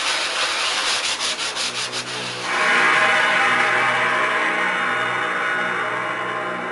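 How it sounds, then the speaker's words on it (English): Steady scuff sanding by hand, a rhythmic rubbing that shifts to a smoother, continuous scraping partway through, close and fairly loud. "So a bit more scuff sanding."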